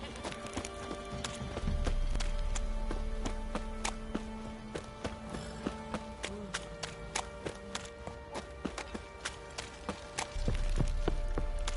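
Horses walking on a hard surface, hooves clip-clopping in an irregular, steady stream of sharp knocks, fairly close, with a low rumbling background and occasional faint voices.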